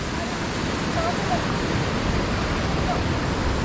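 Rushing water from the river at Mullaperiyar dam forms a steady, loud broadband roar with no breaks, close and continuous throughout, with no voices.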